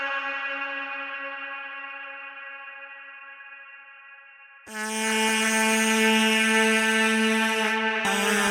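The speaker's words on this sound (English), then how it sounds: "after selecting this and putting like a lot of reverb and Echo Boy delay" A vocal soaked in heavy reverb and Echo Boy delay rings out as a sustained, harmonically rich tone that slowly decays, then swells louder and brighter with a dense, smeared wash of echoes.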